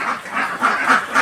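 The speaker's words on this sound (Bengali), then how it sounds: "আর আমার হাঁসগুলো দেখতে পাচ্ছেন" Ducks losing their feathers quack inside a duck shed built over a fish pond, with water about three feet below the floor. Loud, repeated quacks overlap steadily from several birds close by, with no talk.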